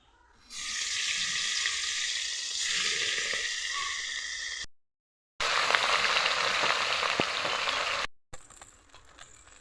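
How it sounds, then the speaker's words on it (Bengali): Chapila fish sizzle loudly in hot mustard oil, a dense hissing fry that cuts off twice, briefly going silent before the spitting sizzle returns. "বাকি মাছগুলোকেও ভেজে নেব।"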